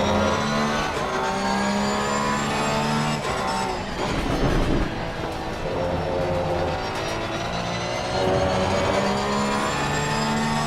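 A GT race car in the Assetto Corsa Competizione sim racing game roars steadily as it climbs and drops through gears, its loud, harmonic engine note rising and falling continuously with no talk over it.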